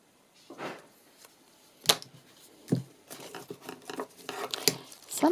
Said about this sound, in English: They are not the straightest cutting scissors at all, those ones